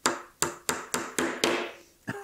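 A hammer pounds nails into a wooden bee frame in six sharp, evenly spaced strikes, each followed by a short ringing decay, then one lighter tap after a pause, with no talk.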